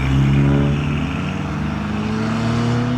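Modified cars pulling away from a night car meet, loud engines droning and rising in pitch as they accelerate close by, several exhaust notes overlapping.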